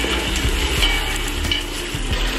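Onions and tomatoes fry in a pan with salt for a country chicken biryani, giving a loud, steady sizzle with a few soft stirring knocks throughout.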